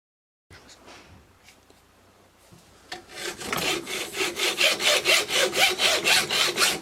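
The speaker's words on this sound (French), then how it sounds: "Donc là, je suis en train de couper" Hand sawing through a part of a Silex TT-H340 petrol hedge trimmer gives a rhythmic back-and-forth rasp, about a dozen regular strokes growing louder after some quieter scraping and handling at the start.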